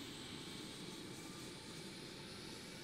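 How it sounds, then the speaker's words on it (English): Faint, steady roar of aircraft engines running up in a flight simulator game, an even broadband whoosh with no pauses and no voices. "So we're gonna turn the engines on."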